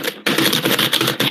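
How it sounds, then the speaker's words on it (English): Rapid typing on a keyboard: a dense, busy clatter of close keystrokes that pauses briefly at the start, then runs on steadily with no voices. "what the hell are you typing?"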